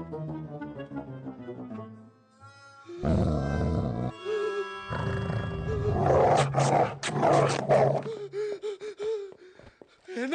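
A dog snarls and growls in a Telugu comedy film scene, harsh loud guttural bursts that rise and fall after a stretch of quiet tonal sound, with no talk.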